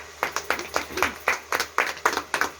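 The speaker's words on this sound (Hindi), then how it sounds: "ताली मार दीजिए आप ये लोग।" An audience claps along at a gathering in Bhakti Nagar colony, Varanasi, with sharp, evenly spaced claps in a quick steady rhythm that fill the whole stretch at moderate loudness.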